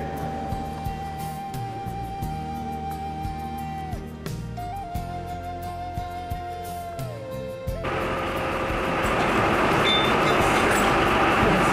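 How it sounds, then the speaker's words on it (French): The restored 2D2 9135, an early French electric locomotive, rolls out of its shed at Paris-Sud-Est to be coupled to a train, giving a steady mechanical hum with shifting whine tones that swells into a louder, rougher rumble near the end. "la machine est sortie de sa remise pour être raccordée au train"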